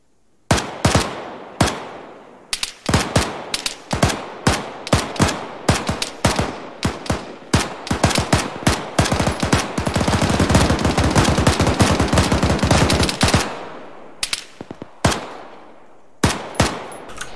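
A turret machine gun on an MRAP armored vehicle in the military game Arma fires short bursts, then one long sustained stream, then a few more bursts, all loud and close with echoing tails.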